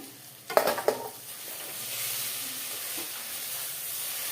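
Egg curry with drumstick flowers being stirred in a pan: a short burst of spoon scrapes and clatter, then a steady soft sizzle and hiss carrying on alone.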